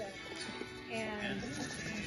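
Goats bleat on a farm offering goat yoga, short wavering calls close by, mixed with people talking.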